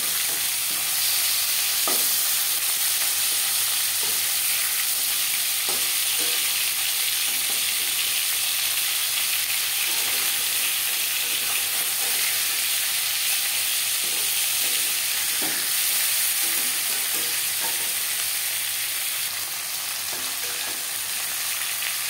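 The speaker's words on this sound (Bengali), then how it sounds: "মাছ এক পাশ ভাজা হয়ে গেছে, অপর পাশ উল্টে দেব।" Pangas fish fillets fry in oil in a pan with a steady, close sizzle that runs continuously, broken by occasional soft clicks and light stirring or scraping sounds.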